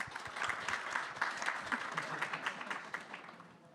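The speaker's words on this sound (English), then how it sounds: "And while we're clapping" An audience at MIT's New Space Age Conference 2023 space environment panel claps steadily in a dense, continuous round of applause heard from within the room.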